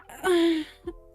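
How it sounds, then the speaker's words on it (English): A single drawn-out, voiced yawn lasting about half a second, with a softer breathy exhale trailing off after it. "that noise was me yawning."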